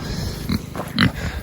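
Kunekune pigs grunt twice at close range, short low snorting grunts about half a second apart, with steady outdoor background noise underneath.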